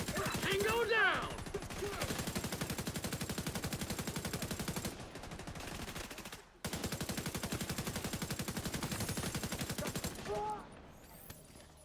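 Rapid automatic gunfire from a holiday-event shooter game, loud and nearly continuous across the whole stretch, with a brief pause before the bursts resume, plus a few short electronic cues layered on top.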